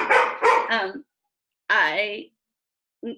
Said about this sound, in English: my dog is barking right now because I have a new cat